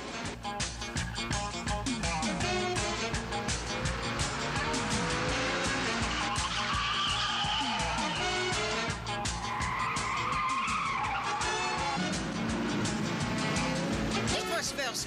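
A car accelerates hard with tires skidding and squealing, the loud engine roaring close by throughout, while voices speak over it.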